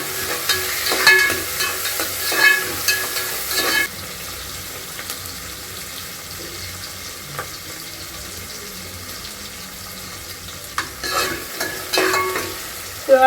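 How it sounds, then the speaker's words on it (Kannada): Onion and chopped tomato sizzle in a pan for a vegetable pulao, with a spoon scraping and stirring in bursts, then a quieter stretch of low frying, with running water briefly audible. "ಇವಾಗ ಈರುಳ್ಳಿ ಚೆನ್ನಾಗಿ ಫ್ರೈ ಆಗಿದೆ ಇವಾಗ ಒಂದು ಟೊಮೊಟೊನ ಕಟ್ ಮಾಡಿ ಹಾಕೊತಾ ಇದ್ದೀನಿ ಚೆನ್ನಾಗಿ ಮಿಕ್ಸ್ ಮಾಡ್ಕೊಳ್ಬೇಕು"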